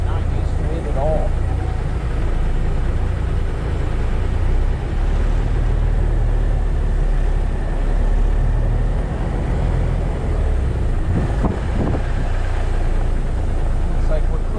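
A White GMC Volvo K100 cabover truck engine rumbles steadily and loudly from inside the cab, a constant low drone throughout with a voice speaking over it.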